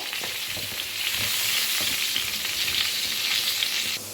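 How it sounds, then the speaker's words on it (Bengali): Cut potatoes sizzle briskly in fish oil seasoned with turmeric, a steady bright frying hiss with soft stirring scrapes throughout. "ভেজে রাখা মাছের তেলের মধ্যে কেটে রাখা আলুগুলো ভেজে নেব"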